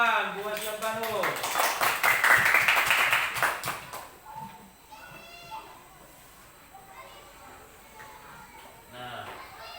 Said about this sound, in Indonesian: Tepuk tangan buat siapa dulu.